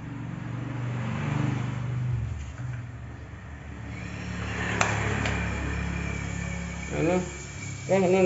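A Samsung inverter refrigerator compressor, under service, hums in a steady low drone with a faint mechanical whir. A voice speaks briefly near the end.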